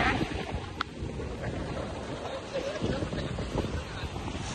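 Wind and surf at a beach where the Laskar Pelangi film was shot make a steady, rough rush of gusts buffeting the microphone over low waves, with faint voices in the background.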